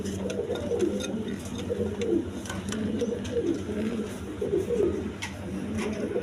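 A pair of coloured pigeons sitting on eggs coo in soft, repeated rolling phrases, close and fairly quiet, over a low background hum.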